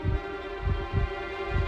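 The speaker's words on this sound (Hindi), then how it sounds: "विवान के धड़कन की आवाज सबसे पहले उस गोले में से आई थी" Repeated heartbeat thumps pulse from inside a sphere, four deep low beats at an even, slow rhythm over a steady hum, fairly close and alone without any voices.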